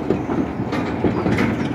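A class 26 diesel locomotive, D5314, on a heritage railway, its generator starting up into a steady, loud, close mechanical rumble with a faint rhythmic pulsing and no voices.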